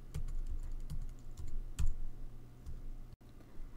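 Keys clatter on a computer keyboard as an ID name is typed, a close, fairly quiet run of irregular clicks over a steady low hum.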